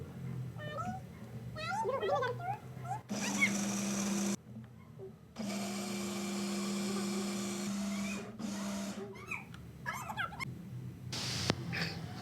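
A CookWell blender makes mosambi juice, its motor whirring in two sustained runs of several seconds each, with someone talking before, between and after them.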